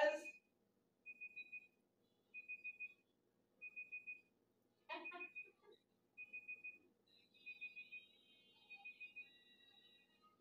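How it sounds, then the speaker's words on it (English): A kitchen timer on a phone goes off in a quiet kitchen, sounding a clear, high beep in repeated short bursts about once a second. A voice briefly speaks at the start and again midway. "Uh-oh, my timer."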